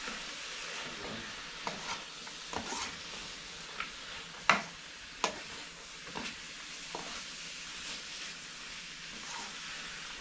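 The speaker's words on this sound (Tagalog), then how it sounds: "Haluin lang po natin ito hanggang sa lumambot siya." Sauce being stirred in a frying pan until it softens, with a steady low sizzle and scattered scraping clinks of a utensil against the pan, one sharper clack midway, no voices.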